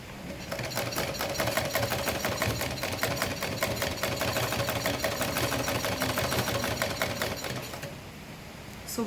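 A sewing machine stitches a denim tote bag in a fast, steady mechanical rattle that runs evenly for several seconds before slowing and stopping near the end.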